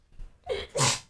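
A single sharp sneeze up close, a quick intake of breath followed by a loud burst of air.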